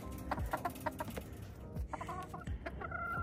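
Several chickens cluck steadily close by, with overlapping calls and short bursts over a constant farmyard background.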